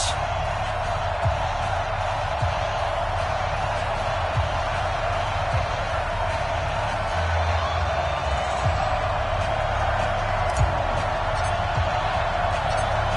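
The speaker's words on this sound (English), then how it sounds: "This crowd is ready as their guys get set to match up between the Chicago Bears and the Green Bay Packers." Stadium crowd noise from an EA Sports football video game before a Chicago Bears versus Green Bay Packers matchup, a steady loud roar of fans with occasional thumps and cheers throughout.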